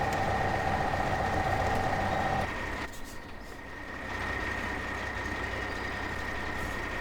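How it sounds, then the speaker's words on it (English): A tractor in the Farming Simulator 2015 video game, its engine running at a steady idle, then cutting out partway through before a quieter rumble returns, with no talk. "And we'll just put this tractor away."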